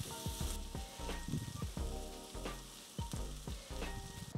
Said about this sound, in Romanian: Într-o tigaie încinsă adăugăm uleiul, untul și ceapa tocată. Călim tot 4-5 minute.